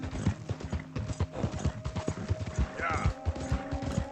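Horse hooves clip-clop at a steady walking rhythm in Red Dead Redemption 2, close and clear, with game music and a brief whinny-like sound partway through, under a person talking.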